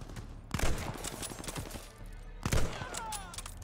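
Gunfire in the Call of Duty Vanguard campaign, two bursts of rapid automatic shots roughly two seconds apart, fairly close and punchy over low background rumble.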